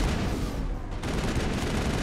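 Sustained gunfire from a Mass Effect firefight against security guards, a dense unbroken fusillade of rapid shots filling the whole moment at steady loudness.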